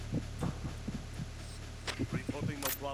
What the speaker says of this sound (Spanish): Escuché un latido anormal por aquí